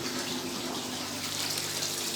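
Water running steadily from a tap into a container for a koi fish setup: a continuous broadband hiss and splash, fairly close and even in level, with no talk over it.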